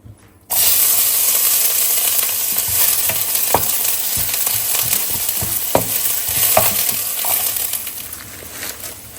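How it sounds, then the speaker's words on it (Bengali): Onion, garlic and green chili fry in a pan with a steady broad sizzle, punctuated by sharp stirring clicks and scrapes of a utensil against the metal; no talking. "রসুন পেঁয়াজ কাঁচামরিচ কিছু ভেজে নিয়েছি"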